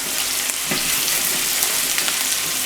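A pork chop sears in a hot pan with a loud, continuous sizzle and faint crackles and pops throughout.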